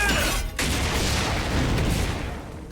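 The Driver Cannon attack fires in Digimon Story: Time Stranger, a loud, sustained roaring blast with a brief cut, then a long, broad rushing wash that slowly fades.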